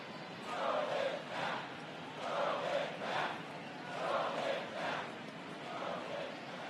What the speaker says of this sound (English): And that should quiet this home crowd.